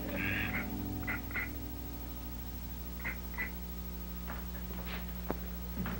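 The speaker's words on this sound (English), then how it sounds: "Look at the duck, Mommy." A duck quacks several times in short, separate bursts, moderately near, over a steady low hum of background noise, with no talking.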